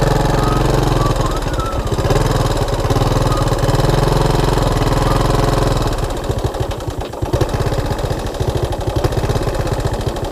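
A 1987 Honda TRX125 ATV engine runs loudly and close by with a rough, chugging mid-pitched drone that turns more uneven and pulsing as it settles toward a shaky idle.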